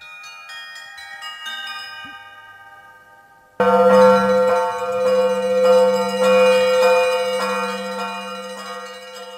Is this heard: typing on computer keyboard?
no